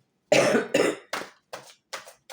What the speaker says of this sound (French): cette toux, elle a vraiment du mal à partir